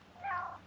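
A cat stuck up high lets out one short, plaintive meow, fairly faint and heard alone.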